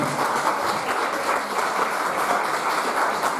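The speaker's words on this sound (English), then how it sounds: "Audience? Round of applause?" Steady, even round of audience applause at a vegan chef cooking competition, a dense wash of many hands clapping continuously at moderate loudness with no talk over it.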